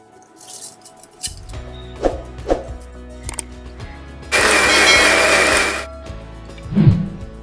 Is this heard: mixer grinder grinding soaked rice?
yes